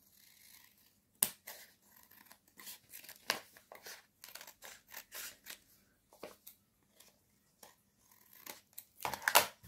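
Scissors trim fabric in a rapid series of sharp snipping cuts, close and clear, with a quiet pause in the middle and a louder rustle at the end, no talking.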